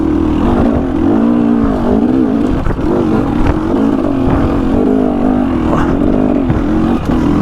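A 2020 KTM 300 two-stroke dirt bike revs loud and close on a Utah single-track trail, its engine note rising and falling repeatedly as the throttle opens and closes.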